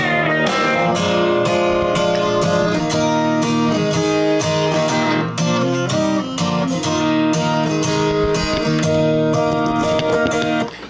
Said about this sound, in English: I went through and recorded two acoustic guitar passes of strumming